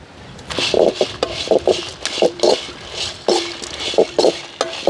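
A spatula scrapes and taps rhythmically against a pan while dry-roasting cumin seeds, dried coconut, dried red chillies and black peppercorns, giving short, fairly loud clinks in an irregular stirring pattern.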